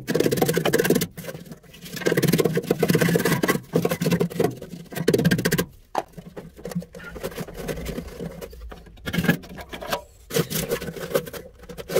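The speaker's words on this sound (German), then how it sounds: "jetzt nimmt man entweder so einen Metallspachtel oder ein hartes Eisen oder einen Schraubenzieher" Metal spatula scraping carbon deposits out of the burner pot of a Buderus oil stove heater, a close, continuous rasping rub in long strokes with brief pauses between passes.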